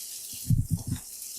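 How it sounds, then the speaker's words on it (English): Lemon juice poured into simmering milk while making homemade ricotta: a short, soft splashing pour of a few gurgling pulses, close and fairly quiet, standing alone without talk. "So now that your milk is simmering, we're going to add the lemon juice right in."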